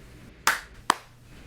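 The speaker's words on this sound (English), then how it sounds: "we can clap in whenever you're ready" Two sharp hand claps, about half a second apart, are made to sync a voice-memo recording against a call, each a crisp, close, isolated snap in an otherwise quiet room.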